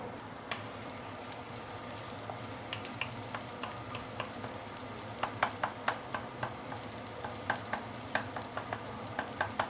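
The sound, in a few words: sauteing garlic and shallots in hot oil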